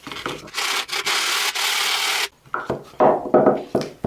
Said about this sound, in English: 60 grit sandpaper.